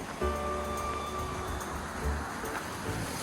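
Steady rushing of water flowing along a canal fills the clip, with a low engine hum and faint tonal whine in the background.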